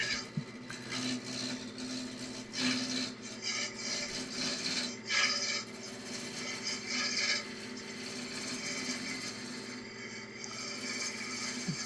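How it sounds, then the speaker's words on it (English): Steady scraping and rasping as a gouge roughs down a wooden handle for a bandsaw sled, close and continuous with uneven strokes over a low workshop hum. "Just roughing it down with a gouge."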